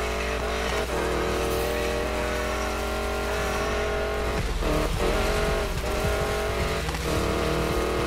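Car drifting in the Need for Speed Payback racing game, a steady loud engine drone with tire squeal and shifting engine notes throughout, no talking.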